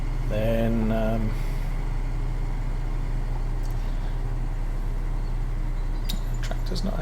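Tractor engine in Farming Simulator 19 working fields, a steady loud droning hum running throughout, with someone talking over it at the start.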